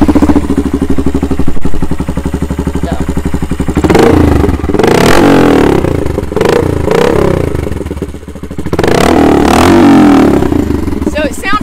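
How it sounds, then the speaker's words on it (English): A small 125cc dirt bike engine idles with a rattling putter, then revs up in several loud, rising bursts close by, while people talk over it. "I think it is a 125 like dirt bike engine."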